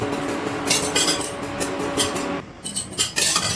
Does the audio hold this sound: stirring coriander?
yes